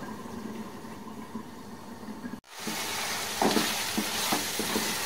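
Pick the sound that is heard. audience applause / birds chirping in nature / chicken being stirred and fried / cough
chicken being stirred and fried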